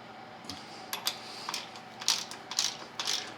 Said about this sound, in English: I'll take my ratchet, and I'll just snug it down just a little bit